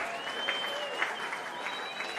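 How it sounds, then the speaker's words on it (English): Eagles fans in a football crowd applaud a goal, a broad steady wash of clapping with a sustained whistle tone above it and the crowd murmuring underneath. "The Eagles fans might be getting tired of clapping their hands at this point."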